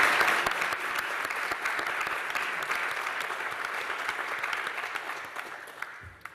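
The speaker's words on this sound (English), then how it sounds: "give one more big round of applause to all the speakers who have presented this morning" Sustained audience applause for speakers at an indoor small flying objects showcase event, a dense steady clatter of many hands clapping that tapers off toward the end.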